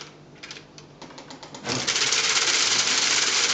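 The reels of a Rasti toy slot machine start up with a few light mechanical clicks, then break into a loud, steady rattling whir as they spin.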